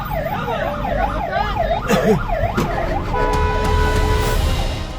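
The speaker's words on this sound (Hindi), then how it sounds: "एम्बुलेंस का ड्राइवर सायरन बजाता रहा" An ambulance siren wails in a steady rising-and-falling pattern on a road in Jammu, loud and close over rumbling traffic, with engine noise underneath.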